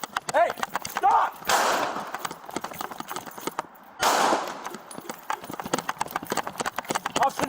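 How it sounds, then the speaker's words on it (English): Gunshots ring out during an LAPD police stop over a stolen Mercedes, rapid sharp cracks in quick bursts mixed with shouting and struggle noise, loud and close. "Officer needs help, shots fired."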